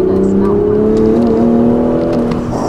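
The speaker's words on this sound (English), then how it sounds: "A little second gear action here." A 2020 Toyota GR Supra pulls in second gear, its engine giving a steady, close, loud drone with slightly rising tone throughout the short stretch.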